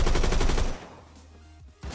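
Rapid, evenly spaced gunshots from the Roblox shooter Phantom Forces, where a Desert Eagle pistol is in use, crack loudly for under a second and then drop off, leaving quieter game sounds and a final thump.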